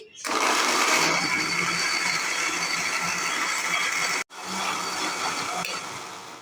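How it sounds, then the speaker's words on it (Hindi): Electric grinder blending ginger garlic paste with a pinch of salt, a loud continuous whirring buzz that cuts out for a moment and then restarts, running alone without talk. "और उसके बाद इसको हम ग्राइंड करेंगे।"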